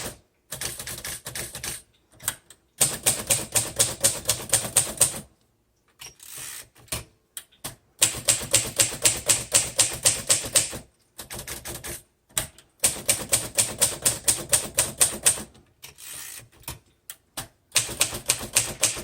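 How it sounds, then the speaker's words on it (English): A 1942 Royal Quiet DeLuxe manual typewriter is typed key by key in rapid bursts of crisp, close clacks, broken by short pauses and occasional carriage sounds, with no talking. "So now let's go through all the keys."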